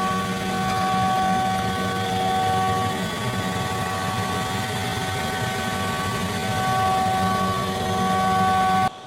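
A laser cutter works through cardboard to make a jig, a steady loud mechanical drone with whining tones and a fan-like hum that runs throughout and cuts off at the end.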